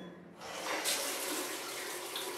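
Water bubbling and gurgling through a TIG welder's cooling system, a rushing, splashing flow that starts quietly and surges louder partway through, then runs on steadily.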